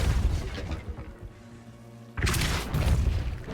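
The Depulso spell is cast in Hogwarts Legacy, giving a heavy booming whoosh that starts the clip, fades into a quieter tonal lull, then bursts back with a second forceful rush.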